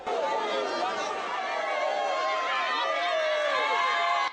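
A street crowd in Lingwala cheers Joseph Kabila as he passes on foot. The loud, continuous babble of many voices shouts and calls out at close range without a break.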